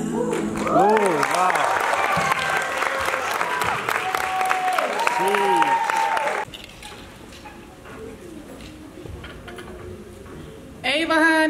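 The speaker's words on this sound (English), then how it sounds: "Give her another round of applause." Audience clapping at a university art showcase, loud and dense with voices calling out over it, then cutting off abruptly to a quieter hall before a brief burst of clapping returns at the end.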